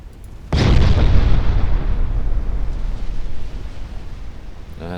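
Warship main and secondary guns fire in Ultimate Admiral Dreadnoughts, and shells explode. A sudden loud boom opens with a sharp burst, then a heavy rumbling roar rolls on and slowly fades. No one talks.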